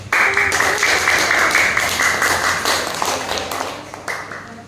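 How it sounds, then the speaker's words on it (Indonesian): Classroom applause for the grape group of students, a dense, steady burst of clapping that lasts several seconds and fades slightly toward the end, with a faint voice underneath. "Yuk, tepuk tangan buat kelompok anggur"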